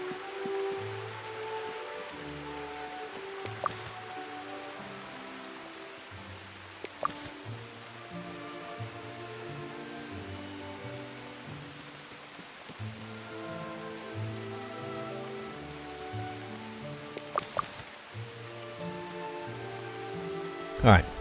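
Steady rain falling in Tales of the Shire, a soft continuous patter with a few louder droplet taps, under gentle background music.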